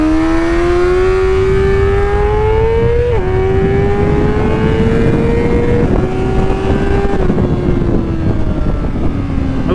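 A 2024 Honda CBR600RR motorcycle's high-pitched engine drops through the gears down to first, with the slipper clutch smoothing each downshift. Revs step down in several sharp blips, loud and close, with no talk over it.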